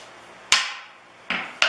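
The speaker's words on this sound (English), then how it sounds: "I'll get a little hammer here" Small hammer striking hot steel set over a 5/8 fuller while forging a rounding hammer: three bright metallic blows with ringing decay, the last two close together, near and loud with no talk.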